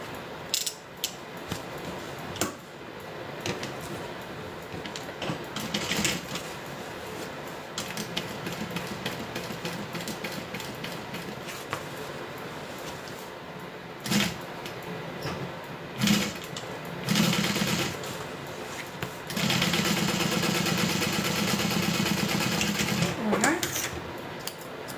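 A sewing machine runs a top stitch on a custom order, its steady mechanical whir rising in several bursts and stopping between them, loud and close.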